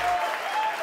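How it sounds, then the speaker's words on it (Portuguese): A studio audience at a gospel singing competition show claps in a brief, dense burst of applause. "Uma salva de palmas pro obrigado"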